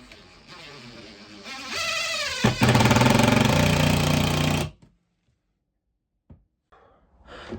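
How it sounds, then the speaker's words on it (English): A power drill drives screws into an old, creaking wooden floor about 100 years old, whirring loudly for a few seconds, then stopping sharply before a pause broken by a few faint knocks. "Okay, I put a few more screws in."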